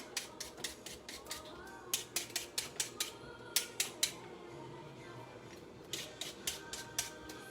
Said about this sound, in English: And then I'm just going to peel them.